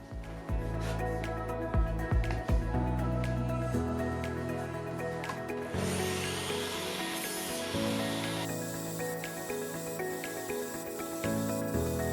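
A saw cuts small wood pieces in a home workshop during drawer box making, a steady hissing, whirring cut running for several seconds close by after a few knocks from handling the wood.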